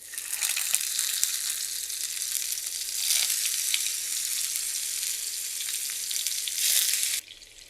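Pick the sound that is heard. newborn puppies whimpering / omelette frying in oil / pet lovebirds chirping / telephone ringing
omelette frying in oil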